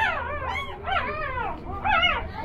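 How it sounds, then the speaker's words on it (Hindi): Dogs and small puppies whine and yelp in high, wavering cries, several overlapping whimpers in quick succession, close by and fairly soft, with no talking. "छोटे छोटे बच्चे। चलो इनको रहने देते हैं, कई कुत्ते ना आज काट ले।"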